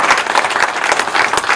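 An audience claps loudly at a hockey association awards presentation, a dense burst of applause filling the whole moment with no speech over it.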